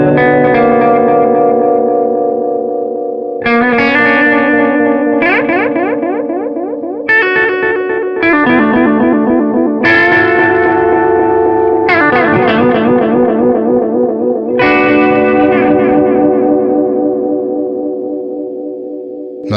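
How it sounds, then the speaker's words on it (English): Electric guitar played through the Echo Program 2 setting of a Belle Epoch Deluxe echo pedal, loud sustained chords and notes with repeating echo tails and shimmering modulation, no talking. "So let's check out Echo Program 2 here."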